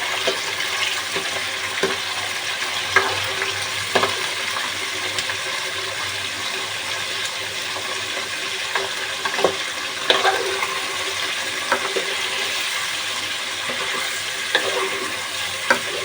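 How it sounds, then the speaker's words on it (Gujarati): Desi chicken curry sizzles and spits in hot oil in a pan while being stirred, a steady frying hiss with occasional scraping clicks throughout. "અને હવે આપણે ઘડીક હલાવી લઈશું."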